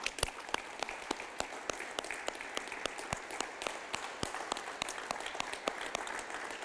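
Church congregation at a communion service claps for Jesus, a steady crackle of many hands with some distinctly sharp, rhythmic claps standing out near the listener, continuous for several seconds.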